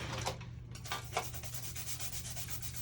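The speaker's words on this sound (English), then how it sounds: "I'm just going to give it a good scrubbing" Brisk rubbing as small Lego pieces get a good scrubbing during washing, short repeated strokes heard close up over a low steady hum, with no voices.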